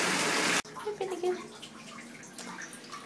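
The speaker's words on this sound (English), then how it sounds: "I've been in the bathroom for over an hour rinsing this sand." A bathroom tap runs hard, rinsing play sand, then cuts off abruptly, leaving soft drips and gentle splashing of wet sand and water nearby.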